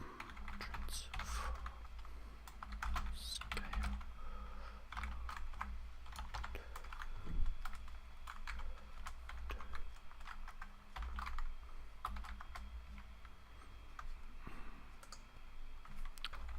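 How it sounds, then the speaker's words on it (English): Continuous keyboard typing runs throughout, a steady patter of close key clicks with irregular bursts, while someone enters CSS code on a computer. "I'll just type this out"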